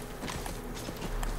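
Brief clatter of horse hooves in The Last Of Us video game, a few quick thuds as the horse sets off at a sprint.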